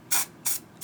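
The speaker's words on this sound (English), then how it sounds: "I'm just going to spray this" Kryolan Dermacolor fixing spray misted from a pump bottle: three short, sharp spritzes in quick succession, close and crisp, with quiet room tone between them.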